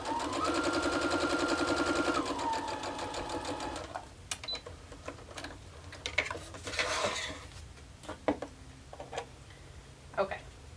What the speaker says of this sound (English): So I can not cut the thread and keep sewing on this.